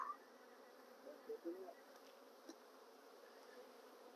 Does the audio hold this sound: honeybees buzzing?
yes